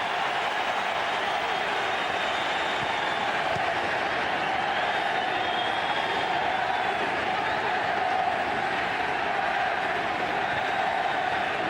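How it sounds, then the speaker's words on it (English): A huge football crowd at MetLife Stadium roars steadily during a Juventus vs FC Barcelona International Champions Cup match, a continuous wash of cheering and applause that fills the whole stretch. "The crowd are absolutely in raptures here in the MetLife Stadium."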